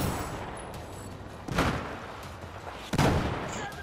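Shotgun fire in Battlefield 4 multiplayer: two heavy booming blasts about a second and a half apart, loud and close over a low battlefield background din.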